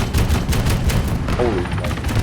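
A 2A42 autocannon fires in Arma 3 as a loud, dense burst of rapid repeated cannon shots, each a sharp crack with a heavy low thump, continuing across the whole moment.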